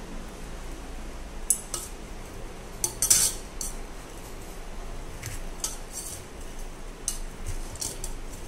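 A spoon is used to mix food in a dish, giving light metallic clinks and scrapes that come irregularly and close by, with a brief cluster of louder clatters partway through.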